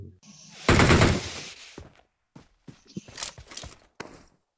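Gunfire crackles in a loud burst, then sharper scattered shots follow after a short pause, with some shuffling movement in between.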